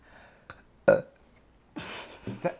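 A short, deep burp rises out of near silence, preceded by a couple of faint clicks and followed by more gurgling, belching noises close by.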